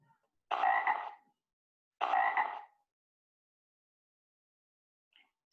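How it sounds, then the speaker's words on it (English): Frog croaking: two loud, rough croaks about a second and a half apart, close by, followed by near silence with a faint trace of sound at the very end. "And a frog croaks."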